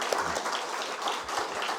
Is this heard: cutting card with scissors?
no